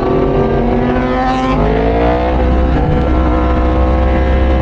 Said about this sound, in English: I'm riding an R1, which is ridiculously fast.